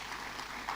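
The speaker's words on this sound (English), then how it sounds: "I think he deserves a big round of applause" Steady audience applause at a town hall meeting, a dense, even patter of clapping throughout a brief moment with no break, moderately distant.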